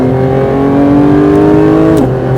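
A Porsche 992 GT3 RS engine accelerates hard on a race track, a loud, sustained high-revving engine note that climbs steadily before a quick gear change near the end, heard close from inside the car.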